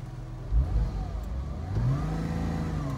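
A Porsche Boxster convertible's engine accelerating from inside the cabin, a rising, smoothly pulling mid-pitched drone heard up close with no talk over it.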